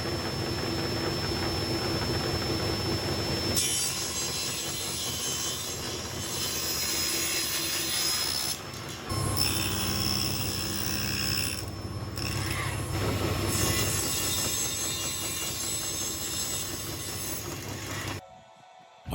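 A table saw with the blade raised all the way up cutting melamine board, a sustained loud whirring drone with shifts in tone as the cuts change, ending abruptly as the saw stops.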